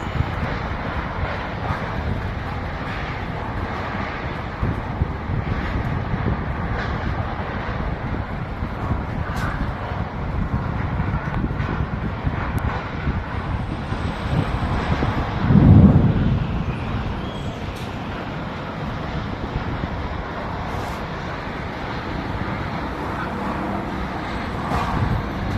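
Strong tornado wind sweeping through Rancaekek, Indonesia: a continuous, heavy roaring rumble that persists throughout, with one louder gust surging near the middle.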